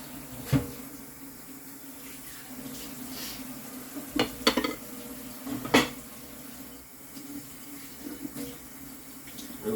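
Washed, soaked dishes are rinsed in a kitchen sink under running water. A quiet, steady trickle is broken by a few sharp clinks and clatters of plates and cutlery knocking together.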